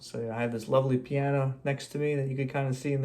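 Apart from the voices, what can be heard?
None of the usual background noises is heard.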